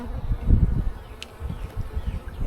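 Honeybees buzz on a hive frame at close range, a pulsing low drone that swells and fades as insects move around, with no talking over it.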